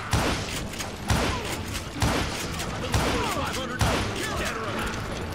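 Rifle gunfire in the Western shooter Call of Juarez: Gunslinger, five loud, evenly spaced shots roughly a second apart, each with a sharp crack and ringing tail over ongoing battle noise.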